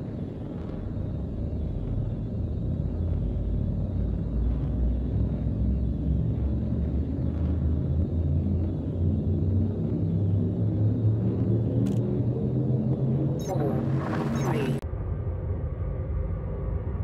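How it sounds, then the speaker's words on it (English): A ship's drive charges in Elite Dangerous as a loud, steady low rumble with a rising harmonic hum that builds for about fifteen seconds, then cuts off sharply after a brief bright burst. "Drive charging."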